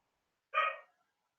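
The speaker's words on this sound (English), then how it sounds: "I hear a dog barking." A single short dog bark rings out at moderate distance in an otherwise quiet room, with nothing else around it.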